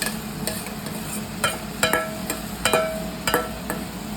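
A metal spoon scrapes and taps in a pan as cooked rice is added and stirred into the pulao mixture, with irregular clinks over a soft background hiss.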